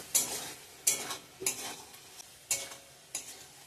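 Onion, tomato and spice masala being stirred and fried in oil for rui fish kalia, with about five distinct scraping stir strokes over a soft steady sizzle, close and fairly quiet.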